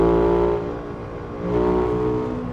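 A KTM 990 Duke motorcycle engine at full throttle, a loud, steady harmonic drone that dips briefly and then swells again, heard close with no talking.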